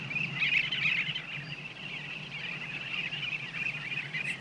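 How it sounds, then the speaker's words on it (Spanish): Bee-eaters call over Africa in a steady high chorus of overlapping chirps, moderately distant and continuous, with a soft rushing background beneath. "El cielo de África vibra de pronto con alas de abejarucos"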